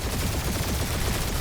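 Rapid turret gunfire crackles through a space dogfight in the Guardians of the Galaxy video game, a dense continuous barrage of overlapping shots with no pause for the whole stretch.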